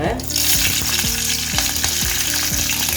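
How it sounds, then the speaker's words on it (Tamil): Mustard seeds, urad dal and green chili crackle and sizzle in hot oil, a steady loud frying hiss punctuated by repeated sharp pops at a regular pace, with no voices. "இப்போ எண்ணெய் காஞ்சிருச்சு கடுகு உளுத்தம் பருப்பு கொஞ்சம் சேர்த்துக்குவோம் இந்த பச்சை மிளகாயும்"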